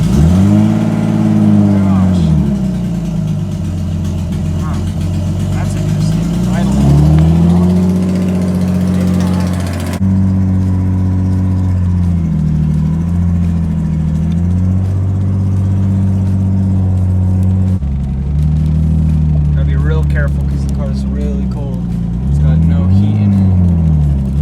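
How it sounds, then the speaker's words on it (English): Car engine cold start with a loud exhaust leak, the engine revving up and settling back several times, close and loud, in a garage lineup that includes an S14, an E46 and a Cherokee. "I still have that crazy loud exhaust leak"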